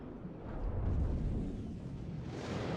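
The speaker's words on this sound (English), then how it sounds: "He's firing some more artillery rounds." Artillery rounds firing in the WARNO video game, coming through as a distant, rumbling roll of explosions that swells and stays low and steady throughout.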